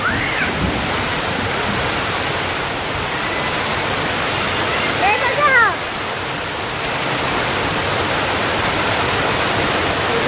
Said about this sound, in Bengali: এই যে বাড়িতে আস্তে আস্তে বৃষ্টি নেমে পড়ছে